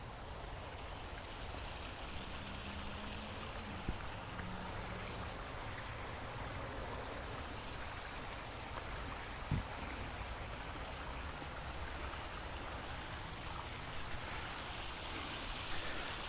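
Water trickles and splashes steadily from a garden pond water feature in a Colorado rock and crevice garden, a faint, continuous burbling wash heard alone with no voices.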